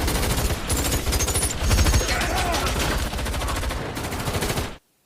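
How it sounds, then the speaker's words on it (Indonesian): Rapid, continuous gunfire erupts in a mafia movie scene as guards open fire, a loud dense barrage of shots rattling for several seconds before cutting off abruptly. "Hingga salah satu penjaga pun mulai menembak dan terjadilah."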